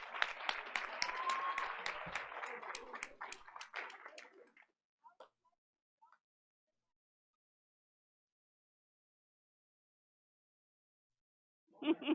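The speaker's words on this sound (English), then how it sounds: "Please give her another round of applause" A school community applauds a staff member at a board of education meeting, steady clapping for about four seconds that thins into a few scattered claps, then silence, with a brief burst of clapping returning at the very end.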